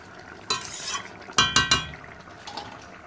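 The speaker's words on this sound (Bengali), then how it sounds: "সেই জন্য মাছের ঝোলটা একটু ভালোভাবে ফুটিয়ে নিচ্ছি" Fish curry simmering in a pot while a utensil stirs it, with a few sharp metallic scrapes and knocks against the pot standing out over a quiet bubbling background.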